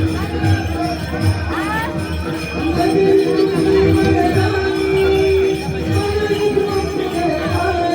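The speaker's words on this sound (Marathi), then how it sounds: "मंडळी आता गर्दी वाढत चालली आहे" Busy crowd murmur at the Bhagwati Devi temple fair in Munage, Sindhudurg, a dense steady wash of many voices with occasional children's shouts and faint tinkling, swelling slightly louder midway and continuous throughout.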